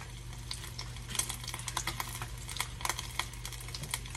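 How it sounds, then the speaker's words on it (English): Bone-in beef ribs sear in a hot pot, a dense, continuous close-up sizzle and crackle with scattered sharper pops and a low steady hum underneath, no talking. "We'll sear that side."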